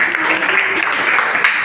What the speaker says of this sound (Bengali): ওর জন্য হাততালি হবে